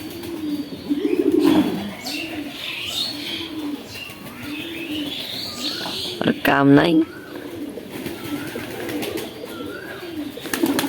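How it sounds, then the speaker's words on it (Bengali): A pigeon in a wooden poultry house on a farm keeps up a repeated low cooing close by, steady rhythmic calls with a brief burst of wing flapping and chirps, while someone talks over it. "ওই দেখুন একটা কবুতরে জ্বালাইতেছে"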